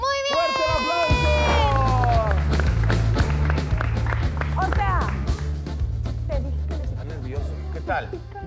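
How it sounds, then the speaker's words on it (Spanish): A studio audience at a Mexican TV show claps and cheers loudly, mixed with shouts and a rhythmic thumping beat running underneath. "¡Fuerte el aplauso!"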